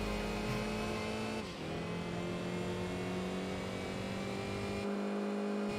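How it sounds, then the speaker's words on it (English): An inline four-cylinder GT-Four car engine revs hard in the Enthusia Professional Racing game, a loud sustained buzzing drone that dips briefly at a shift and then holds steady, with no one talking. "This thing sounds nice though for an inline 4-cylinder."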